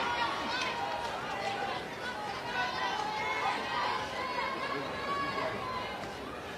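Dense crowd hubbub from Sooner Nation fans at an Oklahoma softball stadium during a game against BYU, a steady wash of chatter and cheering filling the whole stretch at even, moderately loud level.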